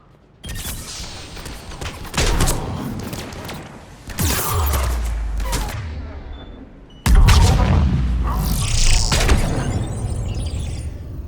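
Gunfire and explosive blasts erupt in a Mass Effect 3 firefight on Omega, loud sci-fi weapon bursts and booms in waves, with shouted voices mixed in.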